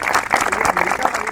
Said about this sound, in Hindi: तहसीन भाई के लिए बहुत से तालियां जी